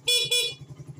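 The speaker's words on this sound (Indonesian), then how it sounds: "klakson" Two short, loud honks from the horn of a Suzuki Satria FU 150 motorcycle, followed by a low idling engine putter.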